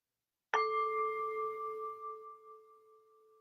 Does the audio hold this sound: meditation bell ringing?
yes